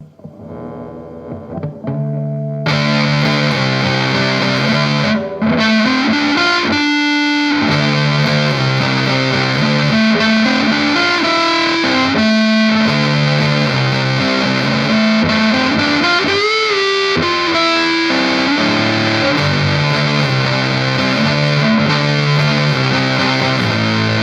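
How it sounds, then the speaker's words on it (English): Heavily distorted electric guitar through a RAT distortion clone pedal cranked all the way, played loud and continuously, sustained saturated chords and bending lead notes with a thick, fuzzy tone. "let's see what the distortion sounds like all the way cranked"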